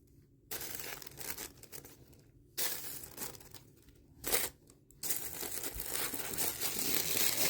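A stationery box package being untied and unwrapped: close, bursts of crinkling and rustling paper that start and stop, with brief pauses and a louder crunch midway, and no talk.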